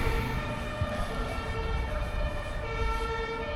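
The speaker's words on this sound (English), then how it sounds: "Permanent sirens." Emergency vehicle sirens wail continuously along a Berlin street, a steady layered tone over dense traffic rumble, loud and sustained throughout without talk.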